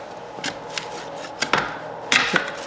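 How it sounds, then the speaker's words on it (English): A knife or pizza cutter slices a gluten-free pepperoni pizza into pieces, giving a few short crisp scraping cuts through the crust, close and fairly quiet, with no talk. "I'm gonna cut into 8 slices."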